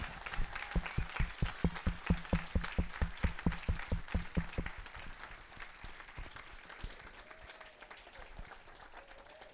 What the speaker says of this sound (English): Please give our immediate past president, Lion Scott Marsters, a round of applause.